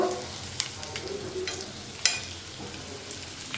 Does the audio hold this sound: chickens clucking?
no